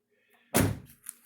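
A Dodge Neon door is swung shut during body panel replacement work, giving one loud, close slam after a quiet moment, followed by a short rattle and a faint knock as it settles.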